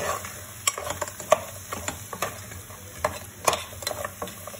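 Cleaned crabs sautéing in curry gravy in a pan for crab curry, a steady soft sizzle broken by repeated sharp clinks and scrapes of a spoon stirring against the pan, close and fairly quiet, with no talking.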